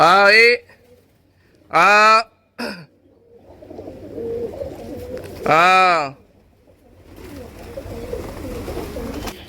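Three loud, close pigeon coos with deep throaty harmonics, separated by pauses, over a low rustling background.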